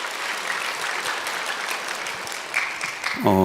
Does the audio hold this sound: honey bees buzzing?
no